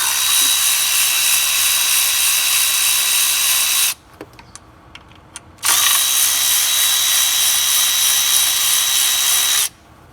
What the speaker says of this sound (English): take our 8mm socket, remove these 2 bolts, and take this adapter off